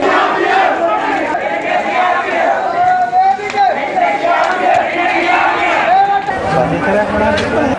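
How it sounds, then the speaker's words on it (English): Large protest crowd massed on a blocked road in Valimada, a dense continuous roar of shouting and chanting voices, loud and close, with rising cries standing out from the mass throughout. "Large crowds attended a protest that was staged in the Boragas area in Valimada"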